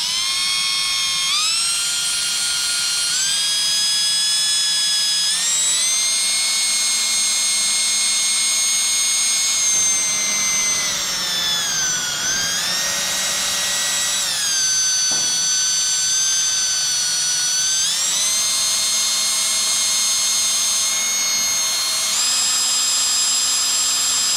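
A high-pitched electric power tool whines steadily and loudly, its pitch dipping and rising as it polishes piston edges on a 351 Windsor engine, with no talking.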